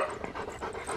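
A big dog pants close by in quick, rhythmic breaths, a short burst of steady huffing with no voices.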